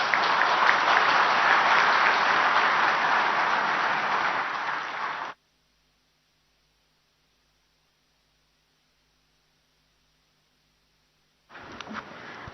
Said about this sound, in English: Can we have a huge round of applause for the Honorable Chief Minister, sir?